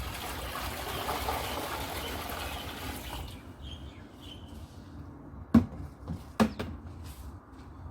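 Two buckets of water gush and splash steadily into a turtle tank for about three seconds, then fade to a low trickle followed by a couple of sharp knocks.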